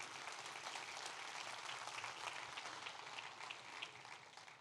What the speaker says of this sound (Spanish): Dele un fuerte aplauso a Dios por eso.